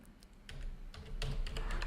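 Typing a file name on a computer keyboard, with a few scattered key clicks at first, then a denser quick burst of close, crisp taps toward the end.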